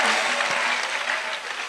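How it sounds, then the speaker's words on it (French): Steady, dense applause fills a church prayer gathering, a large crowd clapping together at a constant loud level throughout with no pauses. "Des grandes acclamations. Great claps."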